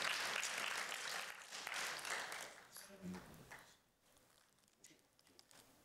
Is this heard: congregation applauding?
yes